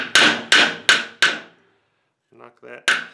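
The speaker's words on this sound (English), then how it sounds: "Then just take a hammer." Four sharp, ringing hammer blows knock down a bend in wire, evenly spaced and close, then a short pause, a quiet voice, and one more strike.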